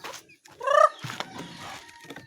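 Farm chickens clucking while they are being fed, a few short close calls with one louder burst of clucks in the middle over scattered background noise.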